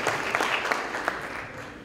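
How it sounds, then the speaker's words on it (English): An audience at a community school event breaks into steady, dense applause, a continuous wash of clapping from many hands at moderate distance that holds throughout. "give her a round of applause"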